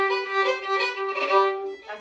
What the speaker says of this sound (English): You'll hear all kinds of cool things with the bow, including bowed triplets.